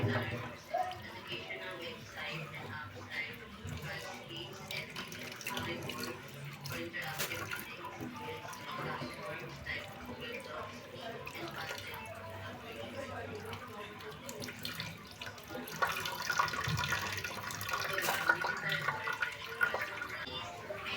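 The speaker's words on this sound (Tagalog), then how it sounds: "Hugasan natin ang pichay." Pechay is washed under a running tap, with splashing and trickling water and handling noises, while people talk over it intermittently.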